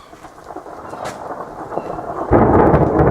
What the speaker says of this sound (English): That's a beautiful storm.